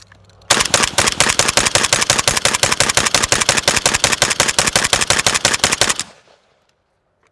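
An AK rifle fires Polish GROM ammunition in a long, rapid string of loud, evenly spaced shots lasting about five and a half seconds, then stops abruptly into near silence.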